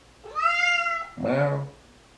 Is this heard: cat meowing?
yes